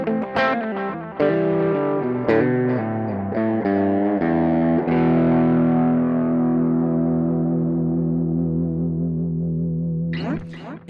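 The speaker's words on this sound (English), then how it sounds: "I'm getting a distorted sound, but all of the echoes are only the clean guitar sound" Distorted electric guitar through a Boss GX-10 effects unit, with clean, undistorted echoes repeating behind each loud, sustained chord and riff, ringing out alone before a brief scrape at the end.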